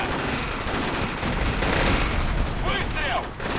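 Gunfire in a video game, a continuous loud barrage of dense shots filling about three and a half seconds, with brief tonal effects near the end.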